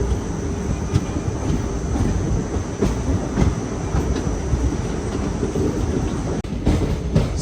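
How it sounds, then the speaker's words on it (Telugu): A passenger train, the Ajanta Express pulled by a diesel locomotive, runs along the tracks near Hyderabad, heard from on board as a loud steady rumble with rhythmic clickety-clack wheel beats. "మన ట్రైన్ని పుల్ చేసేది ఒక డీజిల్ లోకోమోటివ్"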